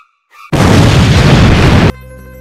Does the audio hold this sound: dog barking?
no